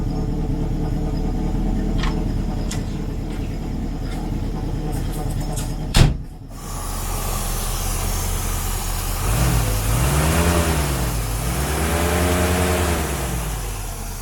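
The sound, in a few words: 1950s Standard 10 saloon car engine running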